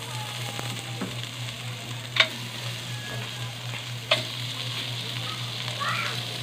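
Marinated pork seasoned with black pepper and salt frying in a hot pan, a steady sizzle throughout with a couple of sharp clanks of a utensil against the pan.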